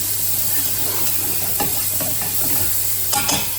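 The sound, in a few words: sauteing in a pan with a touch of salt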